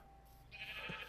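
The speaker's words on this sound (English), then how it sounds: "Alright, we've got sheep." Sheep in the Minecraft modpack SevTech Ages gives one short, close bleat that rises near the end, heard alone over a quiet background.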